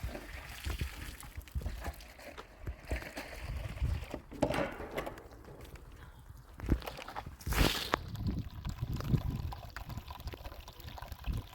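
Water from a tractor tank gushing onto the bases of trees, a continuous rushing, splashing flow with scattered thuds and movement nearby.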